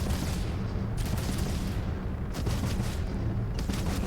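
Spaceship main guns fire in Starfield, with a rapid, dense barrage of booming shots in quick bursts that lay a continuous, loud rumble under the rest of the mix.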